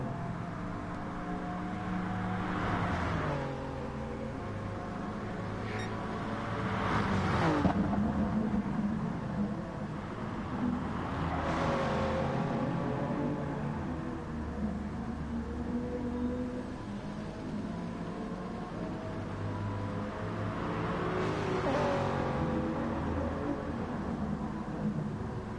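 Race cars, including a Corvette, roar around the Lago Maggiore GP circuit in Gran Turismo Sport, with steady engine drone and several rising, shifting whines as cars pass and change gear.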